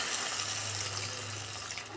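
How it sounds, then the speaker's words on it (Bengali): A little water poured into a cooking pan for a Bengali shrimp and vegetable dish gives a continuous soft splashing rush that holds steady for the whole two seconds, with no voices. "আমি নেড়ে চেড়ে এবার জল দিয়ে দিচ্ছি। অল্প জল দেবো,"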